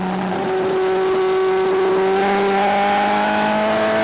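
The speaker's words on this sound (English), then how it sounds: "Now towards Turn 8, a short straight, and down all 5 gears for Turn 9." A 1979 superbike racing toward a turn and dropping down through five gears, its engine a loud, close, steady whine whose pitch shifts between gears.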